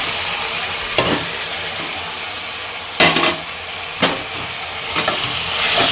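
Boiled beans tossed into a frying pan of sizzling vegetables, a steady loud hiss and crackle broken by several sharp stirring scrapes, close up with no talking.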